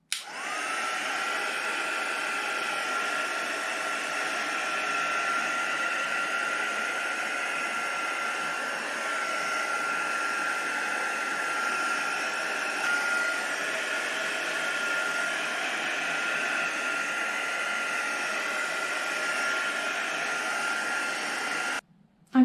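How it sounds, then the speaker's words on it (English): A heat gun blows steadily on wet acrylic paint, making a continuous close, loud airy whoosh that holds nearly unchanged for about twenty seconds before cutting off. "I'm just using the heat gun to make the process quicker."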